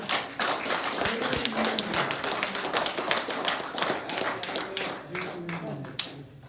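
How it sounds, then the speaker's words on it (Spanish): A standing church congregation claps in sustained dense applause with distinct sharp claps throughout, and voices murmur and call out underneath. "Denle un aplauso al Señor Jesucristo."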